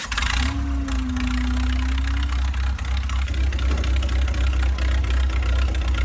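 A four-cylinder engine runs steadily at a smooth idle, a continuous low drone with a brief rising whine early on, loud and close with no talking.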